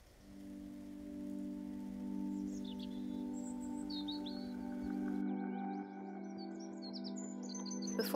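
Birdsong drifts through woodland in the morning, several chirps and short whistled phrases scattered across the clip, moderately faint over a steady low hum and soft background patter.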